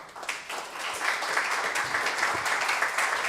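A woodworkers' guild audience applauds a visiting guest speaker, crowd clapping that swells in after a brief dip and continues steadily at moderate volume, heard from within the room.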